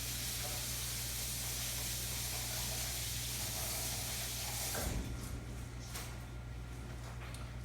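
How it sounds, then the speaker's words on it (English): Snap peas being rinsed under a running tap, a steady broadband wash of water with a low hum beneath it and a few splashy bursts near the end. "I'm gonna go for the rinse because there might be a little dirt in there"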